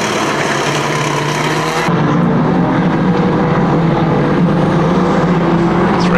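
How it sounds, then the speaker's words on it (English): Pre-1975 banger racing cars roar around a speedway track at Kings Lynn, a loud continuous engine drone with crowd and rumble beneath, the sound shifting abruptly partway through as collisions occur. "So 396 Harland gets back underway and immediately takes a hit from 902 Wilder"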